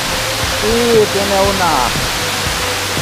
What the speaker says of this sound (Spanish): Más arriba de esta cascada hay otra más pequeña